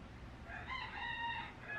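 A rooster crows faintly in the distance, one drawn-out call over quiet background.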